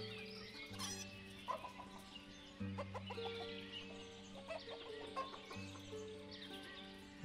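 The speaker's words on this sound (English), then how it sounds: "We still got some chickens in there." Chickens in the farming simulation game Ostriv cluck in repeated short bursts over a steady musical background, at moderate level with no voices.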